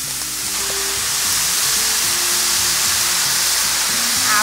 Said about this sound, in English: we're going to add our herbs to the frying pan